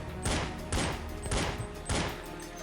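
Pistol shots in Counter-Strike 1.6 fire in a series of four sharp, close cracks at roughly half-second intervals, each with a brief ringing tail.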